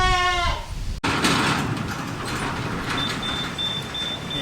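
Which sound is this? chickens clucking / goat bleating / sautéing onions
goat bleating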